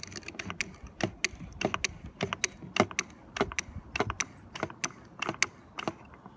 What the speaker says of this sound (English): get your pump in there, catch can, and start pumping what we just switched out